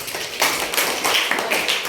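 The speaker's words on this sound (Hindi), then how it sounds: "तालियां बजाओ।" Children in a classroom clap together in a quick burst of several uneven, overlapping claps, fairly close and without talk.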